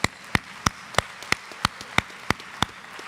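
A single pair of hands claps in a slow, regular beat at a high school athletic banquet, about ten crisp claps roughly a third of a second apart against quiet room tone.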